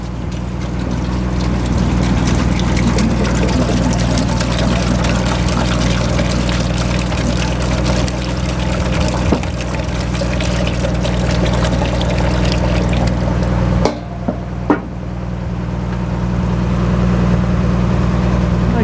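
Water is poured into a Solvidor lid, a long continuous pouring wash over a steady low hum, with a brief break and a couple of thuds near the end before the flow resumes.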